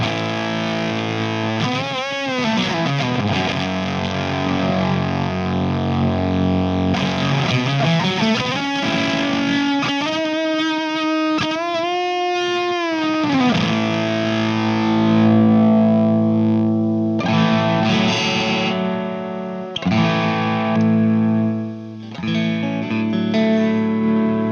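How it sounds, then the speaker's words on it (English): Electric guitar through an Arbitrator fuzz pedal and a Plexi amp model, thick and saturated, with sliding notes, sustained bends and chords ringing loud and close for about twenty-five seconds, with no voices. "add an arbitrator fuzz"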